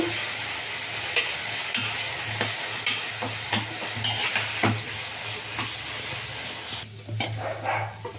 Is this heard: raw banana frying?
yes